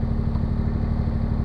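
A tractor engine idles and rumbles steadily up close, loud and continuous, while carrying a MechMaxx SM-26 sawmill head.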